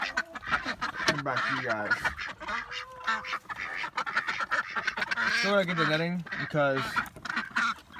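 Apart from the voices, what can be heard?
ducks quacking in a backyard pen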